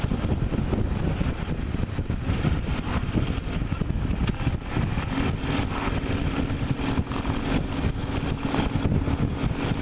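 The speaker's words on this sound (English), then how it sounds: "a light breeze. The wind is nice and cool." Wind roars against the microphone while riding a motorcycle on a mild day with a light breeze, a dense continuous rushing buffet mixed with low engine rumble and no speech.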